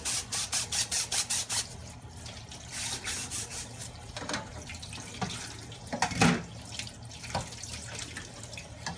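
A Kuvings whole juicer strainer is rinsed under a running kitchen tap, with a steady close stream of water splashing and changing pitch as the strainer moves through it, and a brief clatter near the end.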